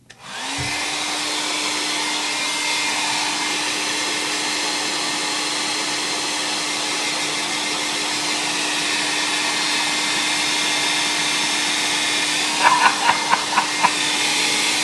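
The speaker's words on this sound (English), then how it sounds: "let me dry this real quick" A hair dryer blows steadily on a piece of artwork, a loud, constant whooshing hiss with a low motor hum that runs nearly the whole time, followed near the end by a few short knocks or taps.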